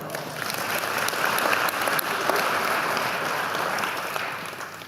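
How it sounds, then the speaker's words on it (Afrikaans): Crowd applause during a family-themed programme, a sustained round of clapping that swells slightly in the middle and tapers off gently, close and fairly loud, with no voices over it. "Geef vir my 'n hande klap."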